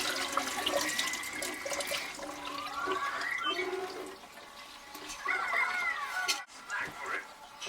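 Running water rinsing alfalfa sprouts in a jar and draining off, a continuous splashing stream under a voice talking, with a louder gush toward the end.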